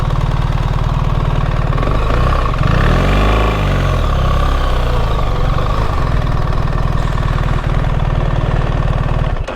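BMW R1300 GS motorcycle engine running close by, a loud steady rumble with a brief swell in revs partway through before settling back.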